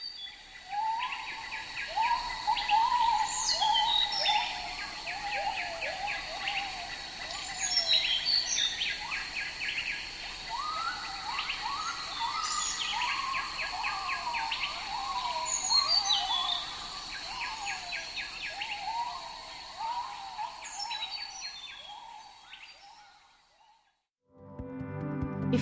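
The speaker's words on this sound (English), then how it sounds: "here's a calming dawn chorus of gibbons and birds from the rainforests of" Dawn chorus in a Thailand rainforest: gibbons and birds call in rising, whooping phrases over a steady bed of insect buzzing, moderately distant and continuous.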